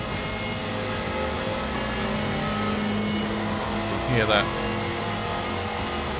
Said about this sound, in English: He's got a very nice sounding car.